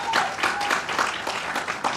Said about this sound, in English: if you could all give him a round of applause.